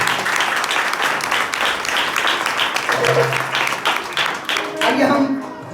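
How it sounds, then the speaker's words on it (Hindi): Loud applause fills a church congregation at a New Year prayer service, dense steady clapping throughout with a few voices and tonal sounds rising near the end. "जोरदार तालियां बजा के सारे ग्राम यीशु को दीजिए।"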